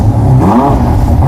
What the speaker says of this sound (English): how loud is this engine in stock form?